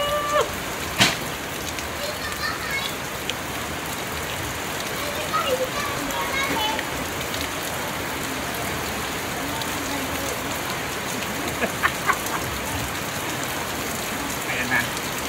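Steady, dense rainfall hissing across a broad band, with occasional louder drops and faint distant voices underneath; continuous and fairly close.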